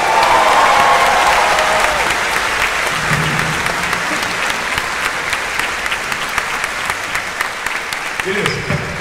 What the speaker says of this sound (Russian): А сейчас еще можно громче хлопать, у него день рождения сегодня